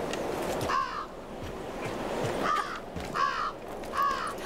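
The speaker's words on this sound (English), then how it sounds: "Crows!" Crows in the Tomb Raider II fan remake The Dagger of Xian give four harsh caws spaced about a second apart over a low rushing wind or surf backdrop. The calls are fairly close, and no voices are heard.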